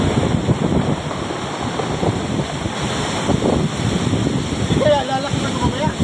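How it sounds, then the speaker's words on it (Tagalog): Big ocean waves crash and wash along the shore at Mariveles with a storm approaching, while wind rushes steadily across the microphone; the surf roar stays loud and continuous, with a voice faintly heard near the end. "Lalaki pa raw ang alon kasi palaking dagat"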